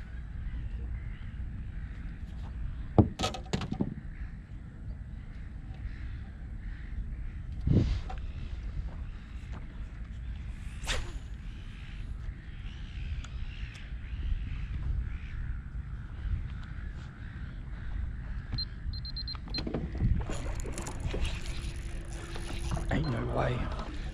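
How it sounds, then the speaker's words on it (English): A fishing boat's motor runs steadily on a snapper fishing trip, a continuous low rumble through the whole stretch with wind noise, a few sharp knocks and faint bird caws on top. "I'm just trying to turn my motor down."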